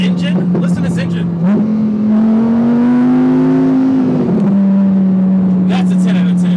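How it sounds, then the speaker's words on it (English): Close and loud, the engine of a rear-wheel-drive Lamborghini Huracan hums at a steady idle, swells into a rising rev that holds briefly, then drops back to idle, with short bursts of talk at the start and end. "But the acceleration, the sound, that engine, listen to this engine."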